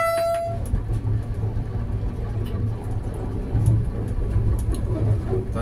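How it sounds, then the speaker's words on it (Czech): A short train horn blast sounds at the very start, then gives way to the steady, loud rumble and clatter of a moving train on the Czech line from Dolní Lipka toward Mlýnický Dvůr. "Tady se spíše troubí nebo dává návěst pozor"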